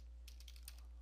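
A few quick, soft key taps on a computer keyboard over a steady low electrical hum.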